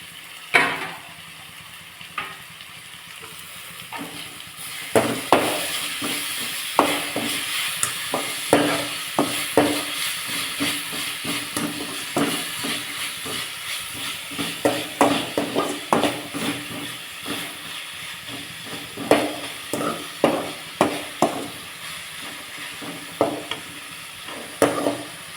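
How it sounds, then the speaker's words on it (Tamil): Tomatoes sizzle and fry in a pan for a South Indian cauliflower fry, with steady close hissing and repeated clicks and scrapes of a spoon stirring against the metal. No one speaks. "இப்போ தக்காளியை சேர்த்து நல்லா வதக்கலாம்."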